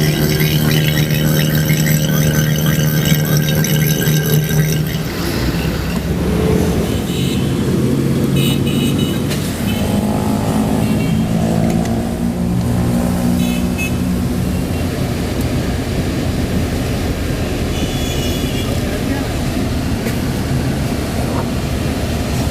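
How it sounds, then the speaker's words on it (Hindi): A vacuum pump evacuating the air-conditioning system of a Toyota Pixis Joy or Daihatsu Cast runs loud and steady throughout, a continuous droning whir with a shift in tone after a few seconds. "अभी हम सिस्टम को वैक्यूम कर रहे हैं।"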